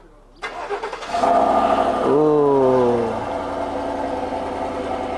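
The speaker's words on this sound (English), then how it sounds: "let me get a cold start for y'all" A Mustang with a built motor cold-starts: a brief starter crank, then the engine catches with a loud rev that flares and settles into a steady, rumbling idle, close by, with someone briefly exclaiming.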